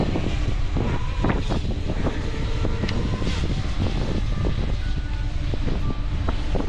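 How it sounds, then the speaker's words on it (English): A camera drone flies over the ITP Aero site in Hucknall on a windy day, its steady whirring hum mixed with continuous gusty wind noise close to the microphone, with no talking. "we're gonna get the drone up and we'll have a good look around"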